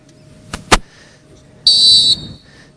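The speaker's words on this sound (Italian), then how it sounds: "Fischio d'inizio" A referee's whistle blown for kickoff at a youth football cup match between Borussia and Inter, a single loud, shrill sustained blast after two short sharp knocks, no talk.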